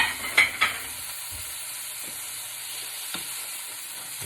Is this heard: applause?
no